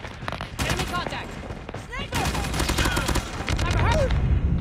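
Rapid bursts of LK gunfire in a video game, dense crackling volleys with whizzing effects, loud and sustained across the stretch with brief gaps between strings of shots.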